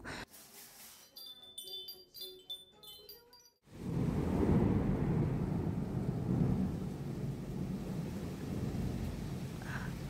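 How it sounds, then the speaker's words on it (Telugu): After a few seconds of tinkling music, heavy rain pours down steadily in a sudden thunderstorm with wind in Hyderabad, with a deep rumble of thunder underneath, loud and continuous. "strong Thunders and wind storm వచ్చింది సడన్గా"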